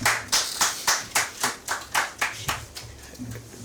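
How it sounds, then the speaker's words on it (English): Rhythmic, fairly loud clapping greets a speaker stepping to the podium at a Ghanaian political studio programme, evenly spaced claps about three per second that gradually soften, with faint talk underneath. "Round of applause for Mr. Solomon Owusu."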